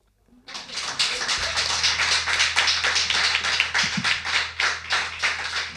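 Live audience applause at a small local venue, dense steady clapping from many hands that rises quickly and holds loud for several seconds, with no talk over it.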